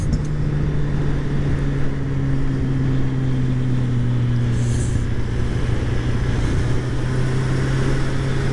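A Ferrari drives on a winding mountain road through the Tis bends, its engine a steady, loud drone with a sustained low tone running throughout and a faint higher whine joining partway through.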